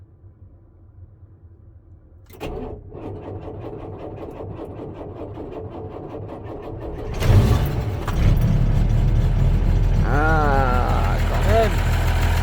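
An old vehicle engine cranks with difficulty, then catches and settles into a steady, loud rumbling idle, heard outdoors with people talking over it.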